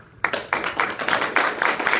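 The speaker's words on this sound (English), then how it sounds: "Let's get the claps." An audience at a live afternoon show claps in response to a vote, loud bursts of applause that start after a brief silence and swell in uneven waves.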